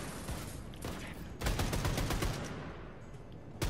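Automatic gunfire from the Wolfenstein 2 video game bursts in dense rapid volleys, each rattle of shots close and loud, with a heavier sustained stretch in the middle before tapering off.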